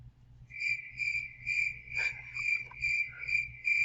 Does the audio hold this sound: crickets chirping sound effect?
yes